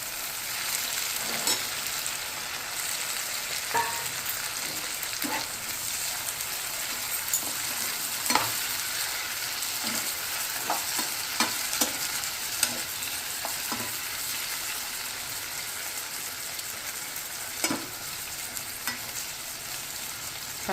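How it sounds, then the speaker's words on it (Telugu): Tomatoes frying with onion in hot oil for a boiled egg curry, with a continuous close sizzle and occasional light clicks and scrapes of stirring. "ఆయిల్ ఆనియన్ వేడి అయినాక, ఫ్రై అయినాక టమాటా వేస్తున్నానండి"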